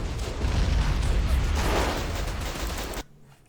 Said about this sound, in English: Hip firing a machine gun.